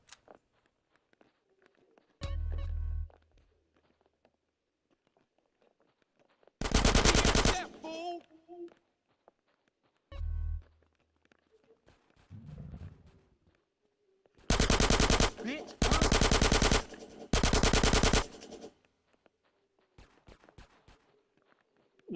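Gunfire in Grand Theft Auto San Andreas: several loud bursts of rapid automatic shots, some single and some in quick back-to-back volleys, separated by quieter stretches of faint game ambience and footsteps.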